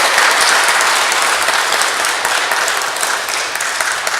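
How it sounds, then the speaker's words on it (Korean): A church congregation breaks into sustained, dense applause filling the sanctuary, steady and loud from start to finish with no talking over it. "우리 전 세계 성도들을 향해서 박수 한번 하겠습니다"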